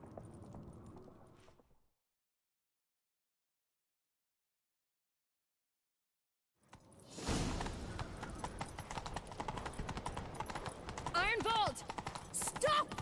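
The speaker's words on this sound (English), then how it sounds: "Grab a horse, we'll chase him down." Horse hooves galloping in the video game The Witcher 3, a steady rapid clatter that starts after a quiet gap, with brief speech-like game voices and effects layered over it.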